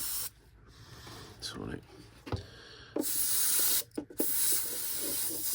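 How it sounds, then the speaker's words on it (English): An airbrush blows air and thinned paint over a scale model of a Trade Federation AAT tank during weathering, giving a steady close hiss in bursts with short pauses, while a voice speaks briefly. "Use your airbrush just to blow the air, to blow the paint around."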